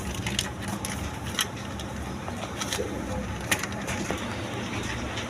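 A pair of Lahori pigeons coo softly at a pigeon seller's stall, their low calls nearly buried under steady background noise and a few sharp knocks.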